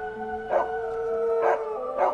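Two neighbours' dogs howling, long sustained wavering howls that rise in three drawn-out swells, fairly close and clear, with no talk over them.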